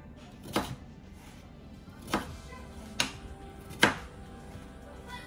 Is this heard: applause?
no